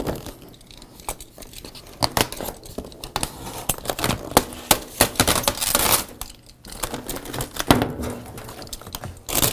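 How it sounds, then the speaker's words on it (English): Overlaminate film being cut off a print behind a mounting machine, a run of close, sharp snips and crackly tearing bursts at an uneven rhythm, fairly loud, with no voices. "come around to the back side, we'll cut that film off"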